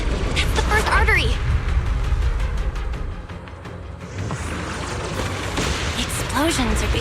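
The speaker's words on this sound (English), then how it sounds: "Explosions are becoming more frequent." Explosions booming and rumbling in the video game Zenless Zone Zero, a couple of strong bursts amid continuous game noise and effects, with a voice speaking over them.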